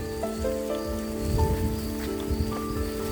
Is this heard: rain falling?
yes